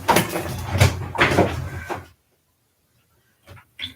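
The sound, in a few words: front door opening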